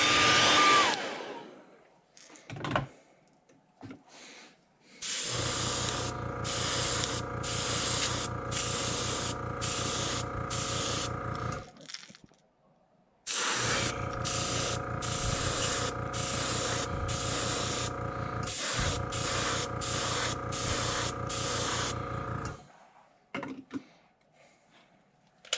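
Heat gun or hair dryer blowing on drying paint on a custom fishing lure, a loud steady whooshing roar in long bursts with short clicking pauses between, no talk.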